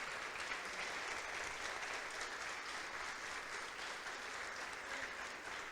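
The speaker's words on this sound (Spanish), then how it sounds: "Dele un aplauso a esta palabra de Dios" A church congregation gathered for a national musicians' meeting in Córdoba gives a steady, even round of applause, soft and distant, with no break in the clapping.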